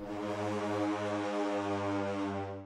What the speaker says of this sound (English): So that's the downwards going one.